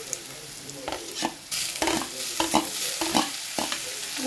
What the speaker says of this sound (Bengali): এখন রসুন আর কাঁচা লঙ্কা দিয়ে দিবে।